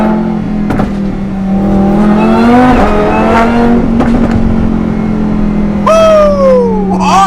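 A Lamborghini with a $10,000 aftermarket exhaust revs loudly and close, its engine note climbing through several rising blips over a steady idle, with a sharp high-pitched rev near the end.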